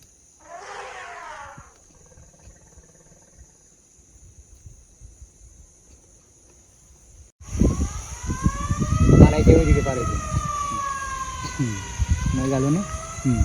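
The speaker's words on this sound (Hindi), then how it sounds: "अभी ये साउंड जो है एम्बुलेंस की तरह, उसको सुन के वो भाग जाएगा।" Forest department vehicle siren blaring near a village at night to drive off an elephant, a loud wailing electronic tone that starts abruptly midway after a quiet stretch with a brief voice, rising and falling continuously with engine rumble beneath.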